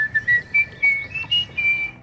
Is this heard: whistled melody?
yes